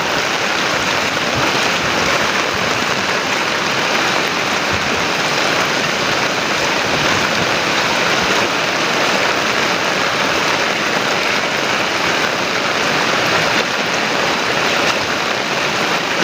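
Floodwater left by Typhoon Enteng in La Jolla, Burgos, Rodriguez, rushes in a steady broadband roar like a strong stream, loud and unbroken throughout, with no voices.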